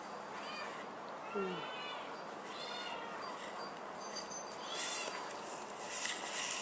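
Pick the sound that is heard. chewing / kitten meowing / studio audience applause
kitten meowing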